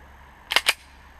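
Two sharp single-action shots from a Beretta Elite II 9mm pistol ring out in quick succession at close range, each a crisp bang with a short tail.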